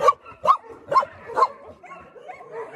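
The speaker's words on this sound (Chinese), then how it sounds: "这是我门口区域的一些狗狗，这全部都是在我门口睡觉的一些狗" Dogs at a mountain home bark in four loud, evenly spaced bursts, followed by softer yips and whimpers that trail off nearby.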